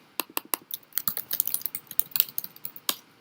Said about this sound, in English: I'm just typing in American living room